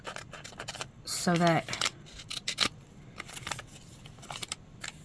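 Scissors snip through old used tea bags in a short close cut of rapid clicking blades, with a voice talking before and after the cut.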